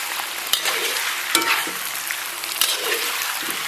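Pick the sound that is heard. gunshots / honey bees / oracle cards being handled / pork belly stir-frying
pork belly stir-frying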